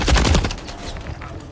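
Rapid gunfire from a Modern Warfare 3 team deathmatch, a loud burst of shots up front that thins into quieter scattered fire over a short span.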